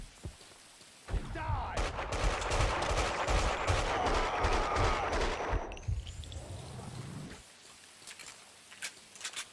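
Dense rapid gunfire from the video game Max Payne 2, loud volleys of overlapping shots lasting several seconds before cutting off, followed by quieter ambient game noise and a few scattered thuds.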